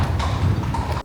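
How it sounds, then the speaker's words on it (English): Hooves of ridden horses clip-clopping on a street, a quick run of close, hollow knocks in a loose rhythm that fills the short clip, with no talking. "Look, there's people riding horses."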